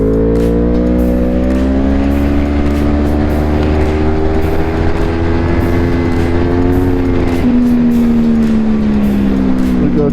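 Yamaha R1 sportbike lapping Sonoma Raceway, its engine loud and close throughout, a steady high-revving whine with rising and falling pitch as the rider shifts through gears, no voices.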